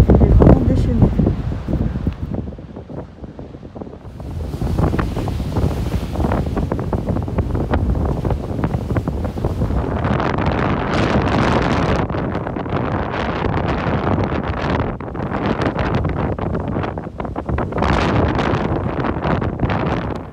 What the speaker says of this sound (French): Par moment il y a des grosses rafales de vent et l'océan là il est vraiment déchaîné.